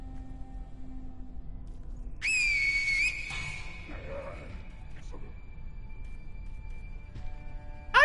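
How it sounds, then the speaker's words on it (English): A video-game whistle used to lure enemies sounds as a sharp, wavering high tone that holds for about a second and then continues as a fainter steady pitch, with quieter game sounds around it and a short burst at the end. "Oh, I just wasted 2 whistles."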